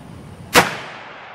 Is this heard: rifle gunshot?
yes